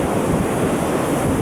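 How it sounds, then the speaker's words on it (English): Cold wind buffets the microphone over steady crashing surf on a rough-weather shore at Saltom Bay, a dense, continuous roar with no voices. "That wind is really cold."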